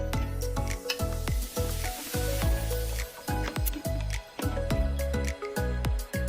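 Halim mix sizzling in a hot pot while being stirred, a continuous frying hiss broken by repeated scraping strokes at an even pace, up close and with no talking.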